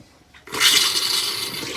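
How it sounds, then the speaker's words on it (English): An RV water pump pushes antifreeze through the plumbing, heard as a sudden rush of flowing liquid through pipes and a faucet that starts abruptly and holds steady and close for over a second. "I'm gonna go and actually run the pump and the antifreeze through the pipes till it comes pink."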